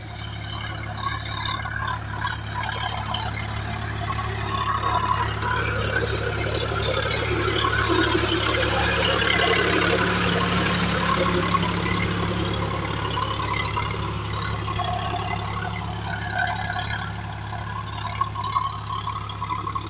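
A Sonalika DI RX 35 tractor engine pulling a 9-tine cultivator, droning steadily and loud up close with a constant low hum that swells slightly in the middle, no voices over it.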